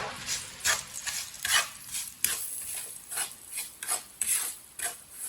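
Spices, including nigella seeds, are stirred in a hot pan on a stove for raw mango pickle: close, repeated scraping and rasping strokes in an uneven rhythm, with a faint sizzle and no talking.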